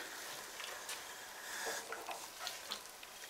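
Grain mash for an all-grain pale ale homebrew being stirred continuously in water, a soft wet swishing and churning texture, close and steady throughout.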